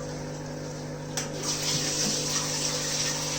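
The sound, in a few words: aquarium sump pump pumping water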